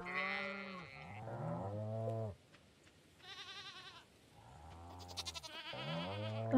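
Calf mooing in the farming video game Stardew Valley, several drawn-out bovine calls in succession with short gaps between them, loud and close, with no talk.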